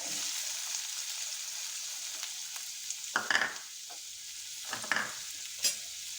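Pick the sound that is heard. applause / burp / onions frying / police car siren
onions frying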